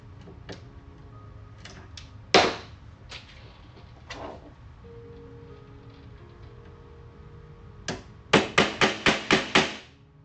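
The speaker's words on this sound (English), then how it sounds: "So I'm hammering it in a little bit to catch" Screws being hammered into wood: a few scattered sharp knocks early on, then a fast run of six loud, evenly spaced blows near the end, close by over low room noise.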